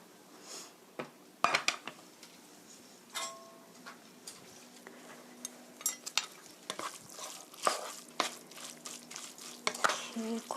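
Spaghetti being tossed with soybean paste sauce in a pan, with soft scraping and stirring, intermittent sharp clinks of utensil against the pan, and faint wet squelches, fairly quiet and irregular throughout.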